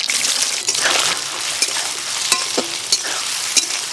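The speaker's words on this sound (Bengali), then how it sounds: "সোয়াবিনটা ভেজে নেব।" Soya chunks frying in oil in a pan, a loud, dense, continuous sizzle and crackle with occasional stirring knocks, close up and without any talking.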